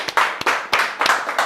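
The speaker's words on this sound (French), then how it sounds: "Applaudissements, s'il vous plaît." Hands clap in a quick, steady rhythm in an office-style game show setting: about five sharp, close claps spread evenly over a moment, loud and alone.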